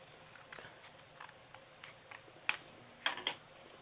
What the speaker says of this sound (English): And then I'm just going to cut that.